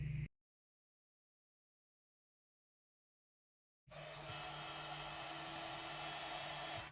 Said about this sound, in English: I'm going to heat emboss that onto my navy cardstock using gold embossing powder